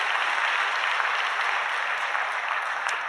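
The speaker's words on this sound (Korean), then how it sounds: "격려하는 박수 한번 해주시기 바랍니다" A church congregation at a Sunday worship service claps in steady, dense encouragement, a uniform roar of many hands held at an even level throughout, with no voices over it.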